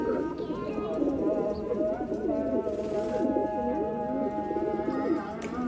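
Pigeons coo steadily in a loft of racing birds, a soft continuous rolling murmur close by, while someone speaks quietly over them.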